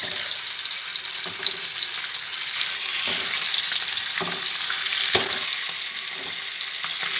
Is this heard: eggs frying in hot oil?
yes